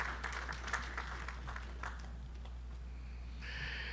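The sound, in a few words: audience applause for university provost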